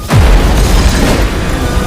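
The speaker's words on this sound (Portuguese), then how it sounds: "Teve uma explosão no centro de Londres." A heavy explosion in central London in a TV drama series: one loud, deep boom hits at the start, then a sustained low rumble and debris noise carry on to the end.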